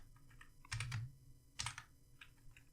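HTML code is typed on a computer keyboard in a few short clusters of close, crisp key clicks, with quieter taps between them.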